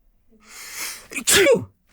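A single sharp sneeze, preceded by a short inhaling build-up, heard close and alone.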